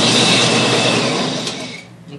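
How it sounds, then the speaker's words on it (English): Sandpaper rubs against a polyethylene wood composite surface, a close, steady rasping scrape that fades out near the end. "Probably the sanding heats up the surface of the polyethylene,"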